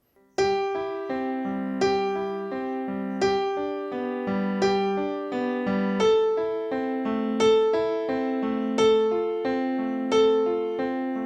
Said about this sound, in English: This is just an arpeggio going down.